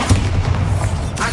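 A Bombarda spell explosion in Hogwarts Legacy, a loud, heavy boom with a deep rumbling body that rolls on for about a second.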